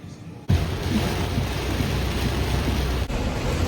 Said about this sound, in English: it's pouring down, raining, thunder, and lightning right now